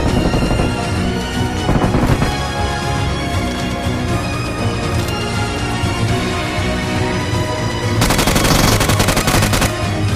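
Sustained automatic gunfire from a BGMI battle royale match fills the whole stretch, dense rapid bursts of shots overlapping loudly, with an even heavier barrage near the end.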